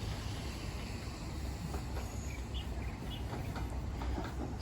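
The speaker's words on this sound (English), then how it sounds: "Here's one of the high-speed trains coming through." A CR300AF Fuxing high-speed EMU train passes through Shanghai railway station with a broad, steady rushing roar, a constant wash of rolling noise and faint high tones over it.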